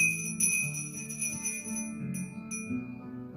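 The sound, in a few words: bell ringing at remembrance service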